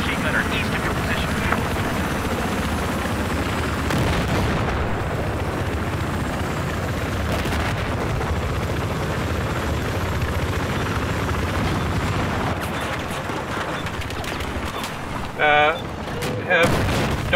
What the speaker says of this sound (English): Don't worry about the chopper